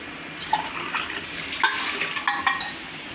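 A bowl of toor dal (pigeon pea lentils) being washed in water, with running, splashing water and a few brighter sloshes and drips over a steady wet hiss.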